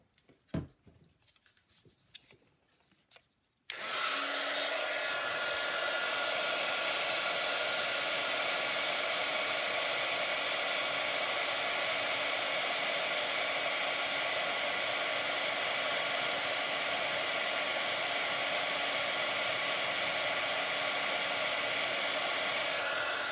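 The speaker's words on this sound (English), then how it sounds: "now I will use my heat tool to set that" After a few soft handling taps, a heat tool used to set embossing powder on a paper card switches on and blows a steady, loud whooshing hiss for about twenty seconds.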